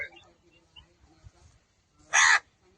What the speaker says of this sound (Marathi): काळ्या आता कावळे काय बोलला.